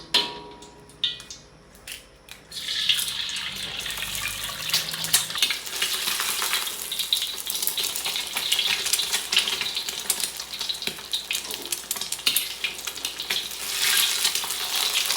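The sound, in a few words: egg frying in cooking oil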